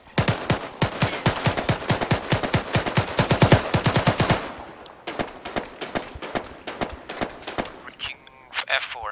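Rapid automatic gunfire in the military video game ArmA, dense loud bursts of shots for about four seconds, then slower spaced single shots, with brief radio-style voices near the end.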